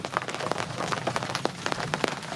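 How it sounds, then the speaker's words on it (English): Rain patters steadily on a hard surface nearby aboard a sailboat during a storm, with scattered louder drops ticking through the dense, even hiss. "And we've got rain."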